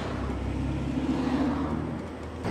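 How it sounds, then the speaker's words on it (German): A car passes on a mountain road in a valley by the Gigerwaldsee in Switzerland, a steady close engine and tyre rush holding for a couple of seconds. "Ja, auch Autos fahren hier noch."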